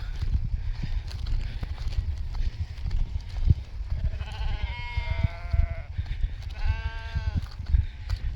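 Sheep bleating in a grassy field beside the prehistoric Avebury standing stones, with several wavering bleats in the second half close by, over steady wind and outdoor noise.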